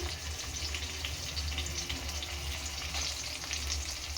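Onions frying in a pan for chicken pulao, a steady, even sizzle that holds close and constant with no talk over it.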